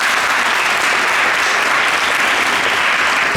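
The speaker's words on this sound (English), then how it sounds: "Give a round of applause for just being here." An audience at the Delft Career Expo 2022 talk show applauds in a dense, steady wash of clapping that stays loud and even throughout, with no voices over it.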